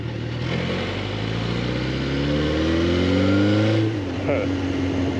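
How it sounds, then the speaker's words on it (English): A Suzuki GSX-R motorcycle engine revs as the throttle is opened, its pitch climbing steadily over several seconds before easing off, loud and close with steady wind noise over it. "I only pushed the throttle a little bit, and it's flying."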